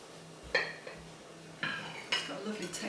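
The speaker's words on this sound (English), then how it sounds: "Just going to cut a slice out now." A knife cuts a slice from a gluten-free, dairy-free carrot and banana cake made with almond meal, giving a few soft scrapes and light clinks against the plate, close and quiet, with pauses between strokes.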